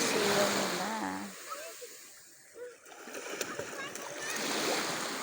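Children swimming in the clear sea off Mindoro on an overcast day splash in the water, scattered splashes and surf wash mixing with their voices throughout.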